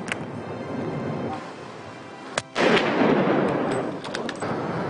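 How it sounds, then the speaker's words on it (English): A single sharp report from a hunting rifle on safari, one close crack about midway followed by a rolling, noisy echo and outdoor rustle. "He's hit. Good shot."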